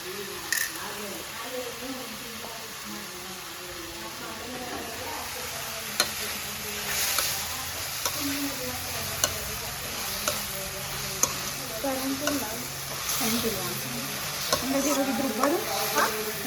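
Garlic, ginger, pepper, fennel, cinnamon and cloves frying in a pan, a soft continuous sizzle with occasional sharp clicks and stirring scrapes, a voice talking over it at times.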